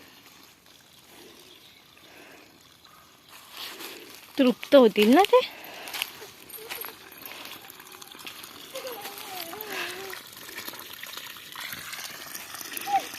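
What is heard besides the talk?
watering young cashew plants with borewell water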